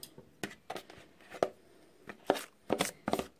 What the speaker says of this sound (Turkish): Kaşıkla iyice sıyıralım ki malzemelerimiz ziyan olmasın.